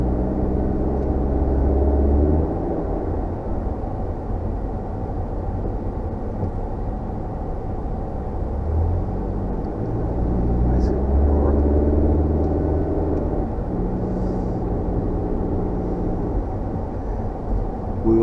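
A 2021 Lamborghini climbs Acadia Mountain near Bar Harbor, Maine, its steady low engine rumble and road noise running continuously, swelling slightly at times.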